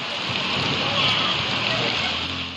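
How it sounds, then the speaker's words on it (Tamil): Heavy rain pours steadily over the outskirts of Thoothukudi, a dense, loud, unbroken hiss close by, with faint voices in the background. "இடி மின்னலுடன் பலத்த மழை பெய்தது"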